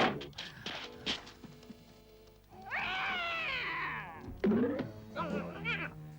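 A cartoon cat from the Smurfs meows and yowls, with a long drawn-out wail in the middle, short thuds and scuffles around it, and a few brief voice sounds.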